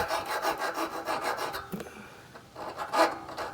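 A file rasps burrs off a metal foot peg part for a Coleman CT200u mini bike, in short repeated strokes up close, with a brief pause midway before the filing resumes.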